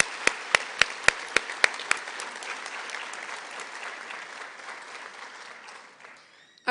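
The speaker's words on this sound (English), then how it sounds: "Please join me in giving these individuals a well-deserved round of applause." An audience at a Winston-Salem Basic Law Enforcement Training Class 78 graduation ceremony breaks into applause, starting with a few sharp, loud claps, then settling into steady clapping that gradually fades out.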